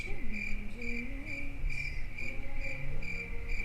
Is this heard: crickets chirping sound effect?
yes